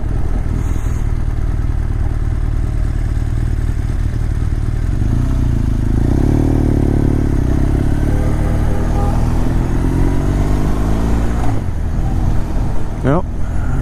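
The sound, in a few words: group of Harley-Davidson motorcycles passing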